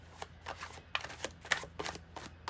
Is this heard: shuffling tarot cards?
yes